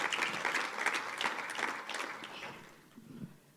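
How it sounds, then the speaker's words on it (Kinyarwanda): Applause from a church congregation for a woman pastor, a steady dense clapping that carries on for a few seconds and then fades to scattered claps near the end. "muyiha amashyi neza kuko yangiriye neza"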